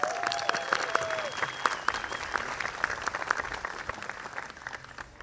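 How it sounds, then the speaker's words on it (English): An audience at an evening community gala claps for a speaker, a steady moderate applause with distinct individual claps near the front and a thin whistle-like tone early on. "Let's give him a round of applause."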